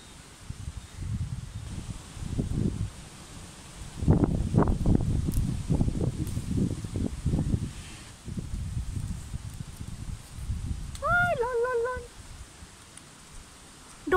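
Gusty wind blows through the leaves of a fruit tree, a steady breathy rustle that swells and fades in waves, with a brief high tonal call near the end.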